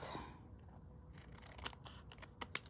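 Scissors snipping through a paper bag for a corrugated cardboard junk journal, a series of sharp, close crisp cuts in quiet surroundings, spaced irregularly and growing more frequent toward the end.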